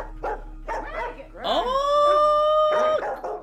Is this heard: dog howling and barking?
yes